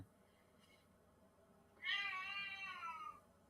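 A house cat gives one drawn-out, demanding meow that stands out close and clear over a quiet background, with no talking.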